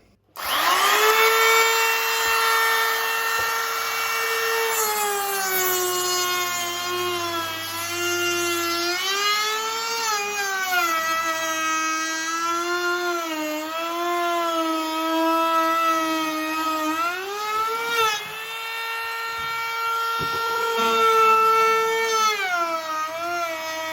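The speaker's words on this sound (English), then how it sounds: "Okay, I ran the router over." A router cuts across an old wooden school desk, a loud sustained whining motor tone that shifts up and down in pitch as the bit bites into the wood, with no talking.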